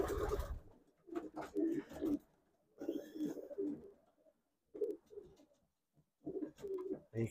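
Racing pigeons in a loft on a cold, damp day give soft, throaty coos in repeated short bursts with brief pauses, close and fairly quiet, with no talking.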